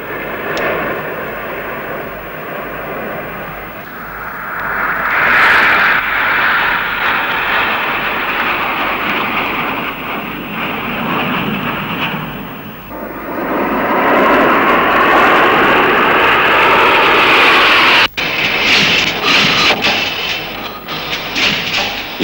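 A Fiat G 91 jet aircraft flies past with a loud, sweeping jet roar that swells and fades in waves, ending in a sharp cut and a renewed rush of engine noise.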